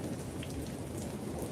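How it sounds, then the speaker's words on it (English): Rain and a thunderstorm give a dense, continuous hiss of falling rain with a deep, low rumble underneath, steady and fairly loud throughout, with no voices. "That storm rainy noise is Lucas's audio, not mine or the surveillance footage"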